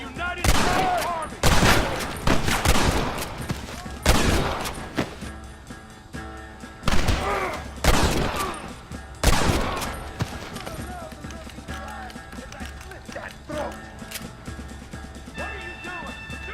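Repeated bursts of gunfire in Red Dead Redemption during a shootout with the United States Army: loud, close volleys and rapid shots in several clusters, with shouted voices talking amid the firing.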